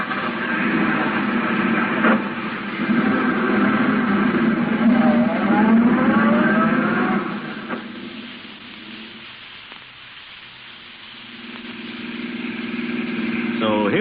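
A taxi cab drives along in a radio drama sound effect, a steady mid-pitched car engine hum that rises and then fades lower, with voices speaking over the motor.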